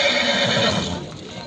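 A horse gives a long, loud whinny at a livestock market near Bishkek, its shrill quavering call sustained over a busy background and fading slightly at the end.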